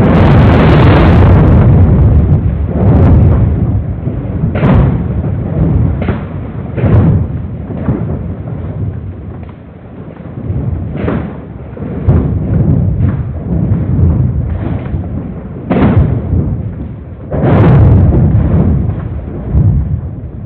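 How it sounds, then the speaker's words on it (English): Recorded sounds from the 2011 Japan earthquakes: a continuous deep rumble broken by repeated booming thuds and bursts at irregular intervals, loud and without voices. "Take a listen to the sounds detected from the Japan earthquakes in"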